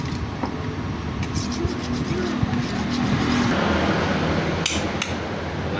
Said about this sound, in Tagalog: Dahil po maraming sasakyan na dumadaan.